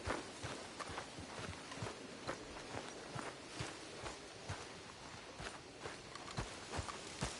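Steady clip-clop of horse hooves walking at an even pace in the video game Red Dead Redemption 2, with a constant background hiss and no voices.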